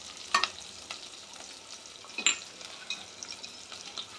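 Onion and curry leaves sizzle in hot oil for a tempering, a quiet steady frying hiss broken by a few sharp stirring clinks, with no voices.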